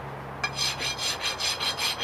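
Rhythmic rasping strokes of a horse hoof file scraping across soapstone, about seven steady back-and-forth passes, close and clear with no voices.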